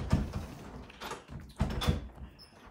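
A stubborn house door being worked open, a run of close, loud thumps, knocks and sliding scrapes in uneven bursts, with no talk over it.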